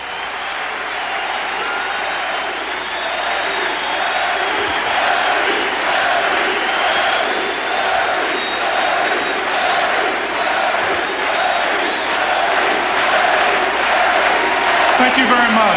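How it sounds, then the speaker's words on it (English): A sellout crowd at Boston Garden cheers for basketball star Larry Bird, with sustained loud applause and roaring that swells steadily and continues without a break throughout. "a sellout crowd packed Boston Garden as fans had the chance to cheer one last time for"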